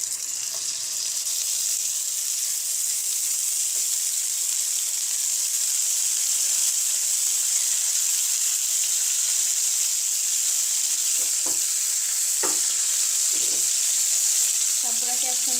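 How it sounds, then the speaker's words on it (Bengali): Small sarputi fish are added to hot oil and set off a loud, steady, hissing sizzle. The frying noise runs the whole time, with a few faint clinks near the end. "এক এক করে দিয়ে দিব, সাবধানে দিতে হবে যেন হাতে ছিটে না আসে।"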